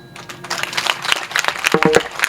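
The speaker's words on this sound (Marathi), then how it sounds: "जर आता तितक्या टाळ्या वाजवताय" Audience at a Marathi devotional kirtan breaking into applause, a short burst of scattered, uneven clapping that is fairly close and loud.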